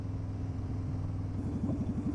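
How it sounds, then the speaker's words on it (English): A motorcycle engine on a rural Tennessee road, a low steady rumble that breaks into a rapid burbling pop-pop rhythm toward the end, moderately close. "Do you hear my bike?"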